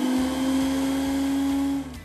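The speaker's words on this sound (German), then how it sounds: "Damit ihr auch wirklich jede Zutat klein bekommt, hat der Mixer ein ProBlend 6 Messer." An 800-watt blender fitted with a ProBlend 6 blade runs steadily, giving a loud, even motor whine and hum that winds down near the end.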